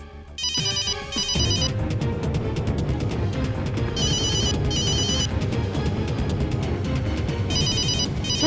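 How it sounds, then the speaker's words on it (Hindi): A mobile phone rings inside a closed cabin, its electronic ringtone repeating in bursts over a dense, steady background hum, with no talk. "मोबाइल की रिंग कैबिन के अंदर से आ रही है।"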